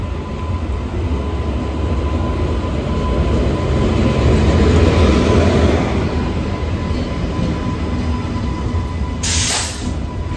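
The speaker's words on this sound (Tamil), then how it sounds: "ட்ரெயின் வந்துட்டுருக்கு மக்களே, பிளாட்ஃபார்ம் நம்பர் 3 மேலே செம்மொழி எக்ஸ்பிரஸ்." A loud, continuous rumble of the Chemmozhi Express train rolling into platform 3 of a station, swelling as it nears and holding steady, with a brief hiss near the end.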